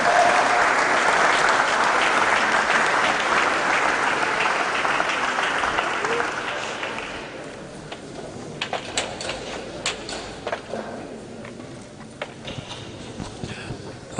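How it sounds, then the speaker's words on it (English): Audience applause for a speaker at a DevFest tech event in Owerri, dense clapping for about seven seconds that thins into scattered individual claps and light shuffling noise. "A round of applause for her one more time."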